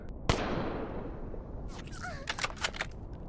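Sniper rifle shots in the video game H.E.N.T.A.I. Sniper: one sharp, loud crack early on, followed by a burst of several quicker snapping shots near the end.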